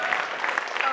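An audience at a summer anime convention roundtable claps, a short burst of steady applause while an announcer keeps talking over it.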